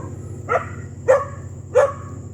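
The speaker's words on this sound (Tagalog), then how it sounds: "Maraming aso." Three sharp dog barks spaced about half a second apart, moderately close and loud over a low steady hum, with no one talking.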